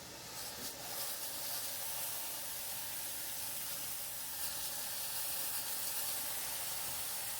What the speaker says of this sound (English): We'll fry that up and see.